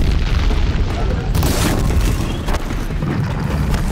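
A container is shot and explodes in Horizon Zero Dawn, a loud booming blast with a rumbling tail that sits in a dense wash of game noise, with a voice talking over it.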